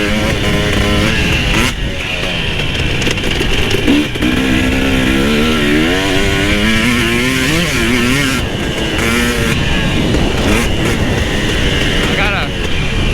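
A KTM TX300i two-stroke dirt bike is ridden hard, its engine loud and close, revving up and down in rising and falling whines with brief throttle chops along the trail.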